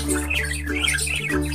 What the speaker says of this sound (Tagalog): Ito naman po yung ating mga lovebirds.